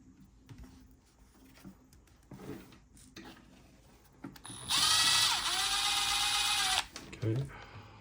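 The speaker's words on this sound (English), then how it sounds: "I'll run in with the drill." A power drill whirs for about two seconds as it drives in a screw on a Redcat Gen8 RC rock crawler, loud and close, with quieter handling clatter before and after.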